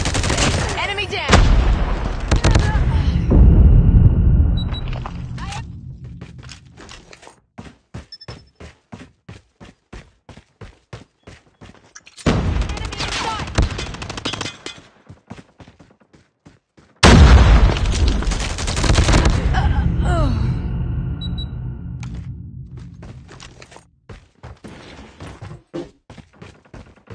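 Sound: grenade explosion and gunfire in Call of Duty Mobile video game

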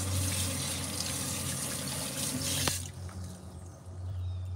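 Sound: running tap water washing blood out of a fish

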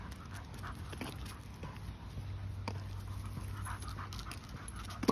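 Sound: dog panting hard

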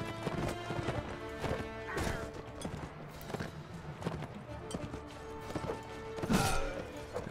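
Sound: horse hooves of mounted units in Mount and Blade Warband video game

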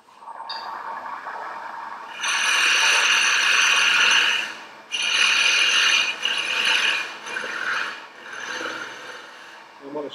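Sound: lathe cutting to shorten the top of a threaded acorn

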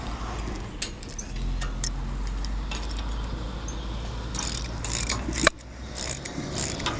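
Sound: tightening 13 mm bolts on disc mower frame supports

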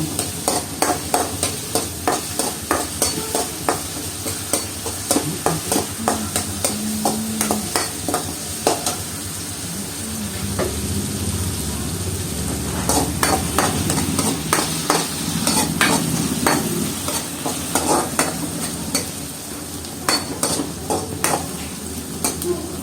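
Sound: onions sautéing in a pan

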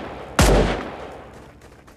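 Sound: gunfire and launcher, video game Raider Six

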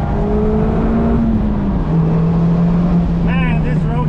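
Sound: Mazda Miata MX-5 driving on a mountain road

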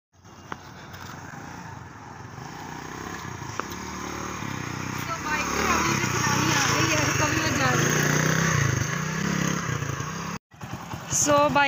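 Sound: motorcycle engine running

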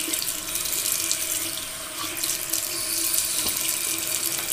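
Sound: water running from tap, rinsing during shave

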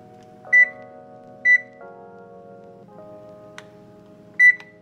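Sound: oven beeping

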